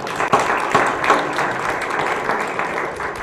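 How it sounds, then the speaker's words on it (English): Applause breaks out in a county freeholders meeting hall for a high school robotics team, with steady clapping from a moderate-sized audience, fairly close and unbroken throughout. "let's have a round of applause for them"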